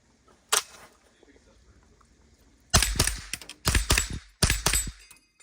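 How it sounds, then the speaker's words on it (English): An AR-15 rifle fires at steel spinner targets during an outdoor drill, one isolated shot followed by a pause and then several loud, sharp reports in quick bursts with ringing tails. "Okay, I like shooting these over here."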